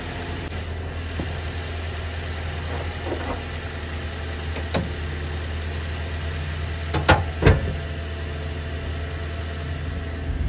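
A 2015 Toyota Corolla engine idles with a steady low hum nearby, with a few brief clicks and knocks over the continuous drone.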